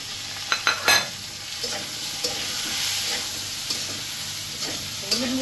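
Loud, steady sizzling in a hot pan as spices and chili powder fry with potato and pointed gourd, a spoon scraping and stirring, with a few metallic clinks near the start.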